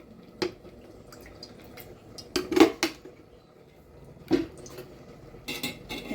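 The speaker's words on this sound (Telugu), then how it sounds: "స్టవ్ వెలిగించి కళాయి పెట్టుకుని ఆయిల్ వేస్తున్నాను" A kadai set on a lit gas stove with oil poured in while making gongura meal maker curry: scattered metallic clanks and knocks, several sharp close hits with faint dripping between them and no talk.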